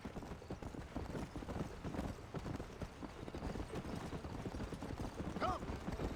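Horse hooves clip-clop at a steady riding pace in the Red Dead Redemption video game, continuous and fairly close, with a brief neigh near the end and some speech around.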